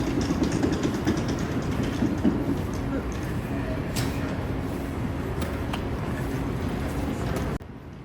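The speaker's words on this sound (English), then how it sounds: "This is a nice train station compared to the one we were in Orlando." A train rumbles at a railway station, a loud continuous rolling roar with faint clatter, cutting off abruptly near the end, and people talking in the background.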